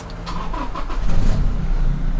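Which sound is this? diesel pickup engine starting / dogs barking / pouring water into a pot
diesel pickup engine starting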